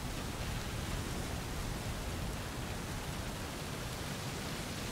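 Steady broadband rain hiss from the video game Road 96, constant and even throughout with no distinct drops, no voices.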